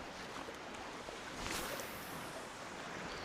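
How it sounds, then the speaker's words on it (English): Choppy waves on San Francisco Bay on a rough, windy day, a continuous wash of surf and wind rush with a brief swell of louder splashing midway, no voices. "A lot of waves."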